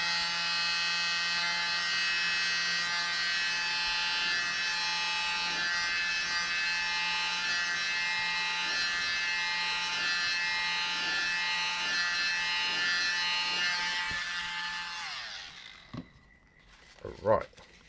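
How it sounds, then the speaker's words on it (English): A small electric mini blower used on a resin pigment piece runs as a steady, close, high-pitched motorized whine for about fifteen seconds, then cuts off, followed by a few faint handling knocks. "Mini blower,"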